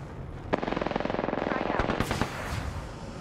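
Rapid automatic gunfire in the video game Apex Legends rattles in a fast, close burst lasting a couple of seconds, followed by a few heavier single shots.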